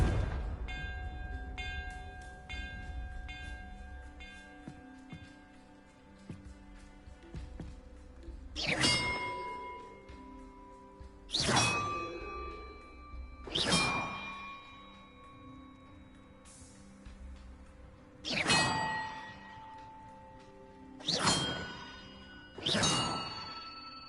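Large bells struck in turn inside Hogwarts Legacy, six distinct clanging strikes spaced a few seconds apart, each ringing out with a long shimmering decay over a quiet ambient bed with faint earlier chimes.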